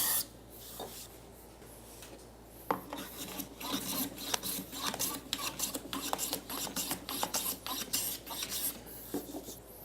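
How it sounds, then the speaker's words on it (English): A hand scraper works along the edge of a wooden table apron, making a run of rasping strokes that start sparse and become quicker and more regular, close and fairly loud with no voices. "I'm also putting a lot of pressure straight down on the scraper, again skewing it and then working it straight."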